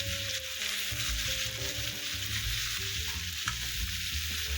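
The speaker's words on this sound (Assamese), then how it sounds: "এই লোহা কেৰাহীটোত ভাজিলে ভাল হয় তিতা কেৰেলাখিনি" Bitter gourd frying in oil in an iron wok, giving a steady close sizzle with soft stirring scrapes that runs continuously without talk.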